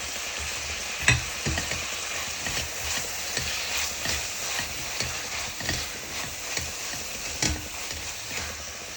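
Tomatoes cooking in a pan for methi chicken, heard as a constant close sizzle with rhythmic spatula scrapes and knocks every second or so, without any talking.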